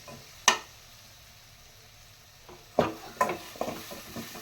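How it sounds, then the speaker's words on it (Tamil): Chopped broad bean and colocasia being stir-fried in a pan: a sudden sizzle burst, a pause, then a run of scraping stirs with crackling frying, fairly close and loud, no talking. "இது கொஞ்சம் நேரம் பரட்டி விட்டுக்கலாம்."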